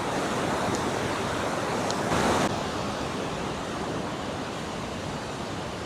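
Niagara Falls roars at night in the state park, a loud, unbroken wash of rushing water filling the whole scene without any voices.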